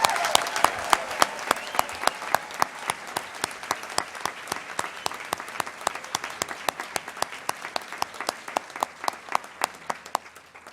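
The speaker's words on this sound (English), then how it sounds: "Let's give them all one more round of applause, please, for the degrees." Crowd applause at a university commencement ceremony honoring degree candidates, a long, sustained round of many hands clapping, with distinct sharp claps standing out over the steady patter throughout.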